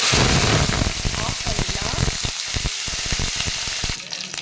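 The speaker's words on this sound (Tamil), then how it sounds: "கடுகு உளுத்தம் பருப்பு பொரிஞ்சிருச்சு. நாம் இப்போ இதில் கருவேப்பிலை சேர்த்துக்கலாம்." Mustard seeds, urad dal and curry leaves frying in hot oil for tomato chutney, a loud continuous crackling sizzle with sharp popping bursts, fading slightly near the end.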